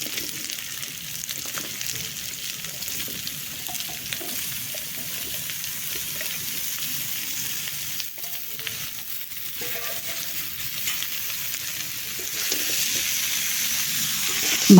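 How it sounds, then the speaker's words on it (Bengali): Purul fish and potato pieces frying with spices in a pan make a steady, loud sizzle that runs throughout, swelling slightly toward the end, with faint stirring movements underneath. "এবার এর মধ্যে দিয়ে দেবো আগে থেকে কেটে রাখা পুরুল আর আলুর টুকরোগুলো।"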